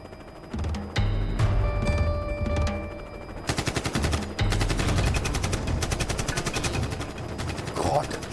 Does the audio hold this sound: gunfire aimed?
yes